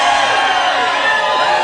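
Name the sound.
large crowd cheering at a radio show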